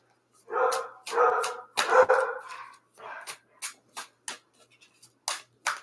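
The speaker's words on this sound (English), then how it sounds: "She the only one out there barking." A single dog barks outside on a street, a loud run of sharp barks and yips in uneven bursts, some close together and others spaced apart, with no other sound between them.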